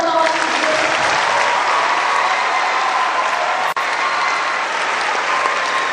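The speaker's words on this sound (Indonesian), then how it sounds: "kita tepuk tangan dong buat kawan" A school talk show audience gives a long, loud, steady round of clapping that fills the hall, briefly cut by a tiny dropout midway.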